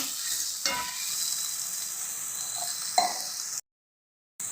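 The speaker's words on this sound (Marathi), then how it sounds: "ते मशरूम फ्राय केले होते ते सुद्धा आता मी याच्यामध्ये ॲड करते आपण छान मिक्स करून घेऊया" Fried mushrooms are stirred into a masala sizzling in oil, a continuous close hiss broken by a few sharp scrapes and clinks of a utensil against the pan, then a brief silence before the sizzle returns.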